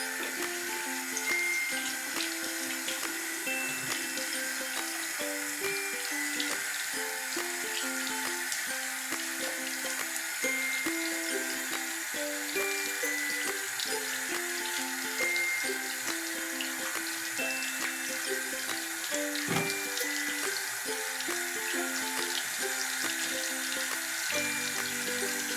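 Tap water runs steadily into a sink during a face-washing routine after makeup removal, a continuous close splashing stream with no talk over it.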